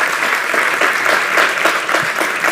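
Applause from an audience at a startup pitch event, a steady, dense wash of clapping sustained throughout at moderate loudness, with no talk over it.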